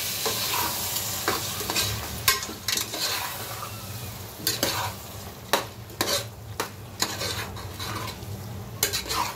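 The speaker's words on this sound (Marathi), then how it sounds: "आता हे सर्व मिक्स करूया।" Beaten curd gets stirred into a sizzling mixture in a pan, with a spoon scraping and clinking against the metal in irregular bursts over a steady frying hiss and no voices.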